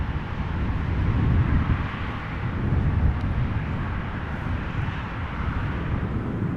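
A KLM airliner in retro livery arrives at Amsterdam Schiphol, a broad steady engine roar with deep rumble, fairly loud and swelling slightly, with no talk over it.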